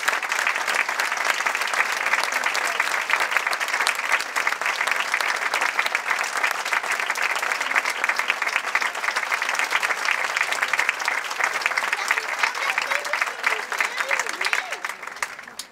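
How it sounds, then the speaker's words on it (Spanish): Sustained applause from a concert audience welcoming the director of the Sociedad Unión Musical y Artística de Sax at a Santa Cecilia concert, dense and steady throughout before tapering at the end. "al que recibimos con un fuerte aplauso."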